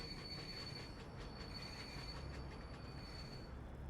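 Train braking in Train Simulator Classic on the West Highland Line near Spean Bridge, a quiet steady rumble with a faint thin wheel squeal running throughout.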